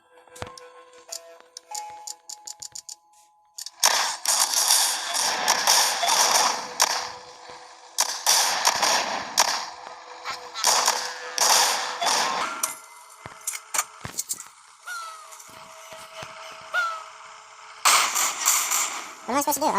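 Gunfire in The Walking Zombie 2 video game comes as sharp cracks and bursts of shots with mechanical clicks, in uneven clusters, loud and close, with a voice speaking at times.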